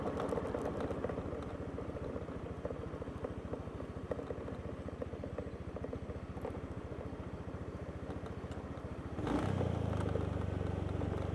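A scooter engine hums with a steady, throbbing drone while riding, then shifts abruptly near the end to a louder, lower tone.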